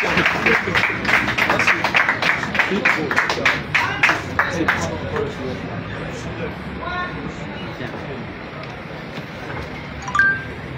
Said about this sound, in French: Quand on applaudit Moïse Stéphane, directeur de campagne du candidat Fortuné